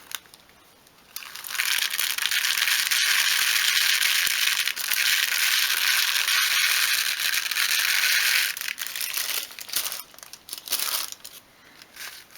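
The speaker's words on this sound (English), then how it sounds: "And then pour the rice in." Rice pours through a paper funnel into a small cushion: a steady, dense rattling hiss of grains for several seconds, tapering into a few scattered trickles and rustles at the end.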